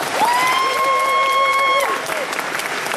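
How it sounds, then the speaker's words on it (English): Convention crowd at an anime festival opening ceremony applauding and cheering, a dense, loud wash of clapping with a high sustained whistle or cheer riding over it. "So I want you to all give yourselves a huge round of applause for creating this environment"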